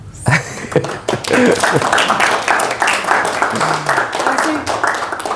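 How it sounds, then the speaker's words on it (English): Audience applause at a talk about Ribotrie and Guernsey music, uneven scattered claps of a modest crowd with voices talking over them throughout. "Give James a round of applause."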